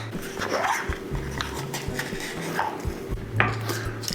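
An old hand-cranked egg beater whipping eggs with milk, giving a few close rattling, clinking bursts of metal against a bowl over a quiet kitchen background.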